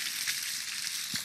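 Oil sizzles in a kitchen pan before mushrooms go in for soup, a steady close hiss that runs unbroken through the short clip with no talking over it.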